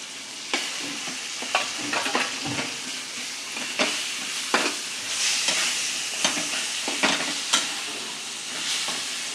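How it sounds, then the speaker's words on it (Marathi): Roasted eggplant with chili powder and salt fries in a pan, with a steady soft sizzle broken by repeated scraping stirs. "आता चांगलं फ्राय करून घेते"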